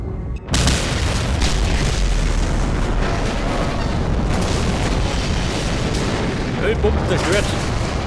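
An oil pump explodes in the video game Mad Max, a loud boom that rolls into sustained rumbling blast noise and debris, with a voice talking faintly underneath.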